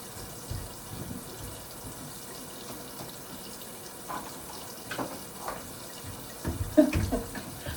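Tap water runs steadily into a sink during face washing, a soft continuous stream with a few louder splashes and clatters near the end, close by and without talk.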